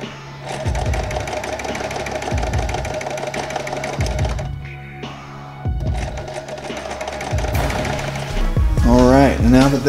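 A sewing machine stitching foam core for resin infusion, running in loud rapid mechanical bursts with short stops between runs, then a brief voice near the end.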